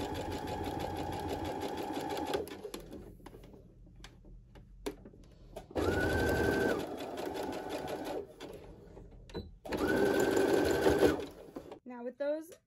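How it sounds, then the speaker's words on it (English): A Baby Lock Brilliant sewing machine back stitches along a fabric curve, its steady, close whirring stitch running in three bursts separated by pauses, with a voice speaking in the gaps. "I'm gonna back stitch and sew down that curve."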